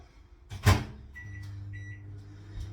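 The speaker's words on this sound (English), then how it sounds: "Then I'll put it back in the microwave to try and make it a bit more" A microwave oven heating an Easter dessert mixture: a clunk of the door or start, then a steady low hum with faint beeps over it, close by with no speech.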